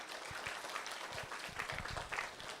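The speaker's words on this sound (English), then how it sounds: "Give him a round of applause" Faint, steady applause from an audience welcoming a board member who stands at an event, a soft continuous patter of clapping heard from a distance.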